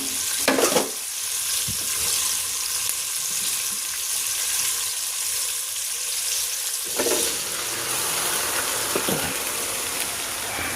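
Softened mung beans and jackfruit going into a pot of Filipino monggo stew, with a steady frying sizzle and a couple of louder splashy stirring bursts, close and without talk.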